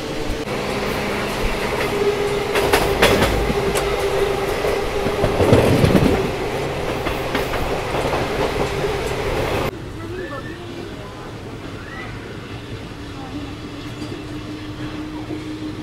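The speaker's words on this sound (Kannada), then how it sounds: "Dharwad Bengaluru Vande Bharat express crossing." Dharwad–Bengaluru Vande Bharat Express passing at a crossing, a loud sustained rush of rail noise with a brief louder burst midway, then fading to quieter ambient rumble.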